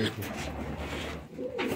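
A pigeon coos close by in soft, low, throaty murmurs that roll on for the whole moment.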